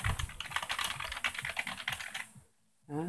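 Rapid typing on a PS/2 computer keyboard, a close, steady patter of key clicks for a couple of seconds, then a brief pause before a short voice starts at the end.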